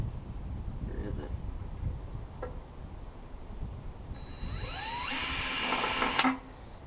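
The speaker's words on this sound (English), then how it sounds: "bolt it down, and drill the other hole" Power drill boring a hole while mounting parts on a Terramite backhoe, a rising, strained motor whine building near the end over steady outdoor wind rumble and faint background noise.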